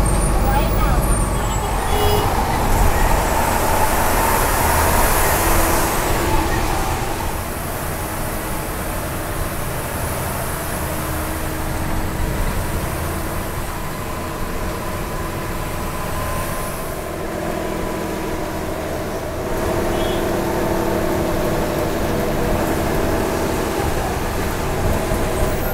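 Heavy city traffic crawling over a bridge in Kalyan, a dense continuous rumble of engines and wheels with louder passing vehicles, under a voice.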